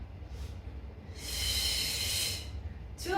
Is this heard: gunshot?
no